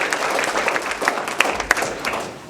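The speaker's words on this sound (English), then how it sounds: "So clap it up for yourselves." An audience at a motivational talk breaks into applause, a dense wash of clapping with a few sharper claps standing out, fading slightly toward the end.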